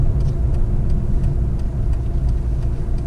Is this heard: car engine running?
yes